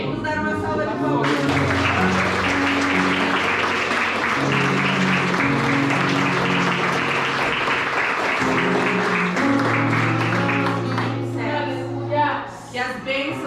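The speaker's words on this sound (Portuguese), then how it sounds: "Vamos dar uma salva de palmas." Church congregation applauding during a Sunday worship service, with steady, sustained clapping that runs loud and continuous for most of the stretch, over held musical tones and voices, then fades out near the end.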